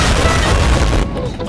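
Loud gunfire from a gun in the video game Counter-Strike 2, a dense burst of booming shots that cuts off abruptly after about a second, leaving brief quieter clatter.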